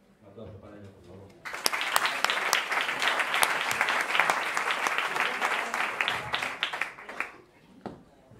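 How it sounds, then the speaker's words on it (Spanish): Audience at a charity book presentation breaks into loud, dense applause after a brief stretch of talk, the clapping swelling quickly and holding for several seconds before thinning out with a few stray claps. "Un aplauso para ella, por favor."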